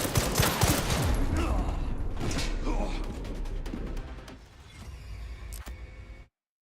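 Gunfire in the video game Resident Evil Requiem: a rapid burst of loud, close shots crowding the first few seconds, then scattered single reports and a final sharp crack before cutting out.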